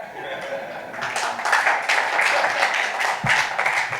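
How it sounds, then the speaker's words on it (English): Audience applause in a hall, starting lightly and swelling into a sustained round of clapping with scattered louder claps and a faint chuckle. "I beg you to applaud now"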